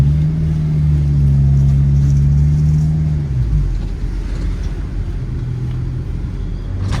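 A Honda car drives on the road, fitted with a new brake master cylinder and a brake booster delete. A loud, steady engine drone and road rumble come from inside the cabin, with the engine note shifting partway through.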